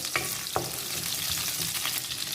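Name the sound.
shallots sautéing in hot oil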